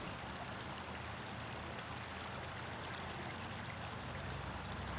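A river in the Town of Tusten flows steadily, a constant broad wash of running water holding an even level throughout with no voices.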